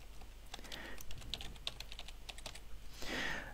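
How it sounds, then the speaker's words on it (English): Quick, close clicking of typing on a computer keyboard, a brisk run of keystrokes with short pauses, then a brief rustle at the end, no voices. "it would help if I actually typed rainfall"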